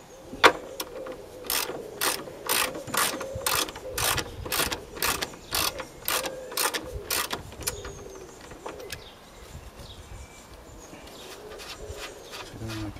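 A ratchet spins off the nuts on the front strut of a Honda Civic 2.2 CDTi, a rapid series of about fourteen evenly spaced clicking bursts close by, then a quieter workshop stretch.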